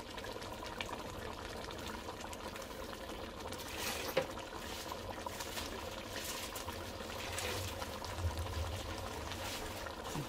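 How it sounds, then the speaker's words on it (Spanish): Water poured from a small cup into a blender jar while cooking ground beef in red chile, a soft continuous trickle and pour running steadily for about ten seconds with faint kitchen background noise. "Agarro una tacita para agregarle agua ahí al vaso de la licuadora."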